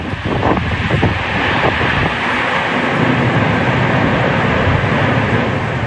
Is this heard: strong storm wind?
yes